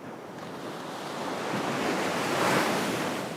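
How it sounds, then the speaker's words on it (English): Gentle waves wash softly onto a sandy beach in Samcheok, South Korea, a low hiss of surf swelling slightly and fading, with some breezy background noise. "you can hear the water lightly hitting against the sand"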